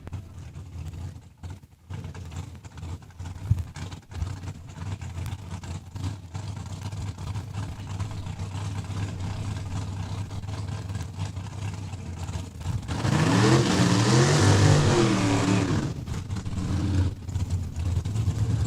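Drag racing car making a pass at the Saskatchewan International Raceway, a steady engine roar across the whole stretch that swells louder and rougher near the end as the car goes by, with no talk.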